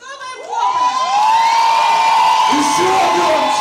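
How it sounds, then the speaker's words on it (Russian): A crowd at a dancehall event shouts and cheers loudly, rising from scattered whoops into a sustained, close roar of yelling voices. "еще раз мы с вами начинаем кричать"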